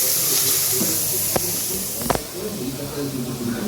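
Onions frying in a pan for a chicken curry give a steady sizzling hiss throughout, with a couple of sharp clinks near the middle and faint voices in the background.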